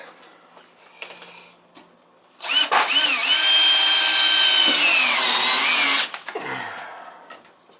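A power drill drives screws during a 40-gallon gas water heater change-out, one sustained whirring run of about three seconds with a pitch shift near the end, preceded and followed by quiet handling noises.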